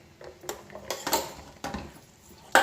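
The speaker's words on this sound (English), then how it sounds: "Then start stirring." A utensil stirs raw oats pongal with dry fruits in warm ghee in a pan, making scattered metallic clinks and scrapes against the pan in an irregular rhythm, close and moderately quiet, with no voices.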